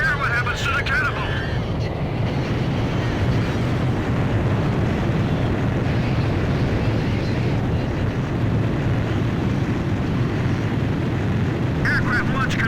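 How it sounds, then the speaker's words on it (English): Jet aircraft launching from a carrier catapult in Ace Combat 5: a loud, steady roar that fills the whole stretch, with brief faint voice chatter near the start and end. "Aircraft launch confirmed."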